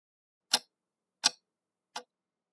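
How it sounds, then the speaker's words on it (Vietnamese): A clock ticks three times, each tick a crisp, isolated click about three-quarters of a second apart, close and clear against silence. "I am a clock."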